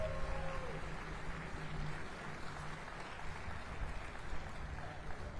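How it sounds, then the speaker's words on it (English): A crowd applauds at the opening of the new Blake Doyle Skatepark, a City of Pensacola community project. The clapping is a steady, fairly faint wash of sound that holds for several seconds without voices over it. "Round of applause for everybody here."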